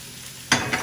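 Chopped garlic drops into a hot pan and bursts into a close, loud sizzle that holds steady with a brief second flare, no voices.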